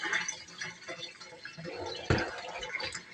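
A little water poured into a baking dish holding chicken and sweet potato, a soft close trickle and splash with one brief knock, quiet and without talk.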